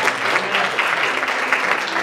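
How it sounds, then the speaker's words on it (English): A church congregation claps hands in praise during a Sunday service, steady dense applause filling the room without a pause. "Somebody give the Lord a hand clap of praise"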